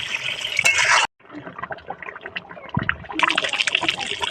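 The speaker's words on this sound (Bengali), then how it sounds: "এবার আমি জল দিয়ে দেবো" Water poured into a pan of simmering Bengali chicken kosha, a short burst of hissing and splashing that cuts off, then low bubbling and trickling before a second rush of sizzling liquid.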